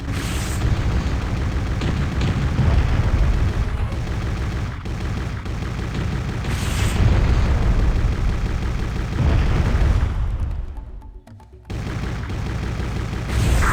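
Dense, continuous game combat from Turok: Evolution in flight: rapid booming gunfire and explosions layered over a steady roar, with a brief drop around the eleven-second mark before the barrage resumes.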